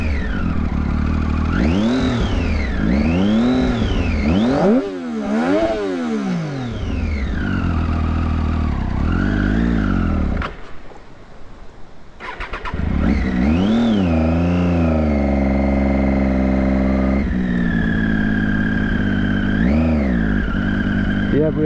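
A car engine, started in second gear, revs up and down repeatedly while driving, loud and close, with rising and falling pitch sweeps, a brief lull midway, and someone talking over parts of it.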